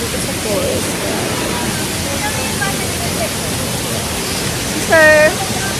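Kinabuan Falls pours in a steady, loud broadband rush of falling water, continuous throughout, with faint voices and brief calls rising over it near the end.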